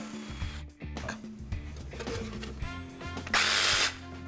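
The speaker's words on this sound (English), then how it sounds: "I'm gonna cut it out with a hole saw and a jigsaw" Power drill spinning a hole saw through a wooden board for a bike frame holder, heard as steady close whirring with bursts of cutting noise and a loud, rough grinding stretch near the end.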